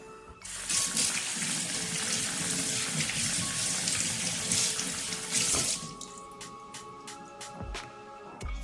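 Tap water runs steadily over a salmon fillet being rinsed under the faucet, a loud, even rushing splash that stops near the end, followed by a few quiet drips and clinks.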